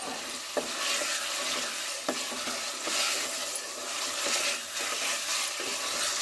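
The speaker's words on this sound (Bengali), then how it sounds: "আদা রসুন বাটা দিয়ে ভালো করে চিকেনটা কষিয়ে নিচ্ছি।" Chicken sautéing with ginger garlic paste in a pan, a continuous sizzle broken by periodic sharp scrapes of a stirring spoon, close and fairly even.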